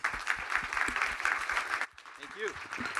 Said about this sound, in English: please give a round of applause to our first panel